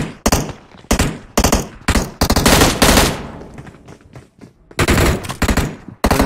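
Gunfire in a mobile shooter game, heard as repeated loud bursts of automatic fire with short pauses between them. The rapid volleys come close and punchy throughout.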